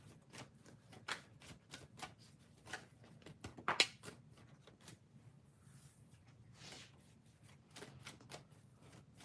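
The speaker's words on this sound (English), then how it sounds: "I'm going to shuffle the two other decks" Soft, quiet riffling and tapping of tarot decks being shuffled, repeated in short bursts against a faint background hum.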